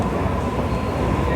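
Indoor train station in Sydney on a rainy day, a steady dense rumble of rail traffic and crowd hubbub filling the space without a break.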